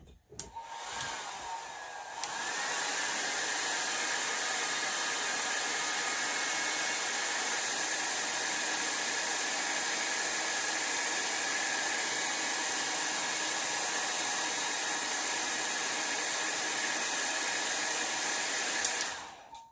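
A hair dryer blows over a watercolor painting of a red truck, a steady loud whooshing roar that starts after a couple of seconds and runs for about seventeen seconds before cutting off.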